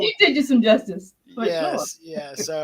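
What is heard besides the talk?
None of the usual background noises is heard.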